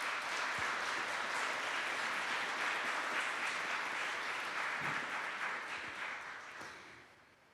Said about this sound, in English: Could we please offer them a round of applause for helping us put this together?